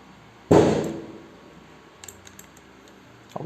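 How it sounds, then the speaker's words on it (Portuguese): A firework rocket goes off outside with one sharp, loud bang that rings out and fades over about a second. A few faint pops and crackles follow, and no one speaks. "Alguém soltou um foguete aqui."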